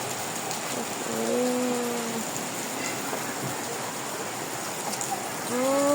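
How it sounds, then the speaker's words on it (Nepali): Rain-swollen mountain stream rushing after a morning downpour, a steady broadband roar filling the whole scene, with faint bird calls or distant voices drifting over it. "खोला होला क्या, खोला छ।"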